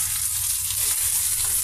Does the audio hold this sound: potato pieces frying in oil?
yes